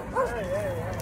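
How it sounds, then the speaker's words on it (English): Tiny dogs nearby give a brief high, rising and wavering yelp over a low background murmur that includes some voice. "Hey, dogs!"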